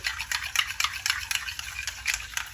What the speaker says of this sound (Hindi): इसको अच्छी तरह फेंटेंगे, क्रीम की शक्ल में इसको लेके आएंगे।